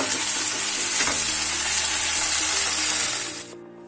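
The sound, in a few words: onions frying and sizzling in a pan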